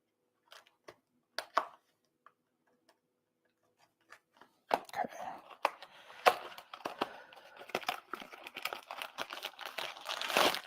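Cardboard box for an Arcade1Up Class of 81 arcade cabinet being opened, with a plastic bag inside: sparse taps and crinkles at first, then a busy run of close tearing, rustling and crinkling plastic and cardboard.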